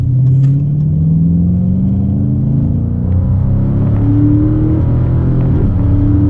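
A 2019 Dodge Charger Scat Pack accelerates hard with a loud, close engine drone that climbs steadily, dips briefly at a gear shift, then pulls upward again.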